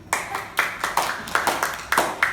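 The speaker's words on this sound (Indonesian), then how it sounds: "Kasih tepuk tangan pada temannya dulu." A few students in a sixth-grade primary school classroom clap for a classmate, a short burst of sharp, near handclaps in an uneven rhythm with no talking over it.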